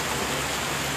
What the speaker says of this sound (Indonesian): berlangsung dengan cuaca hujan